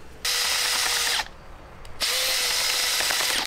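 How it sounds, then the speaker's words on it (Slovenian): Power drill boring holes in garden soil for planting small tomato seedlings, two loud sustained bursts of whirring separated by a brief pause, close up with no talking. "med tem, ko vrtam luknje in sadim rastlinice"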